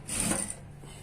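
A sewing machine runs a short stitching burst on a one-piece garment, a quick whirring rattle that stops abruptly and leaves quiet room noise.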